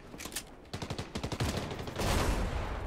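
Gunfire in Fortnite: a fast run of close, sharp shots in bursts of rapid fire, then a louder, denser blast of noise near the end. No talking.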